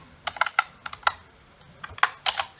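Java code being entered on a computer keyboard, with irregular clusters of crisp, close key clicks separated by brief pauses and no voices.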